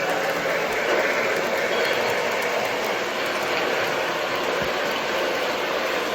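A Lionel Strasburg toy train set plays its water tank sound sequence: loud, steady rumbling railway noise with mechanical clanking and hissing, continuous throughout, close by.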